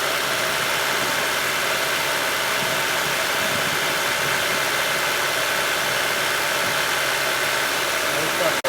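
A 1996 Honda Civic with a 1.6-litre engine idles steadily close to the microphone, a constant, even drone with no revving or voices over it.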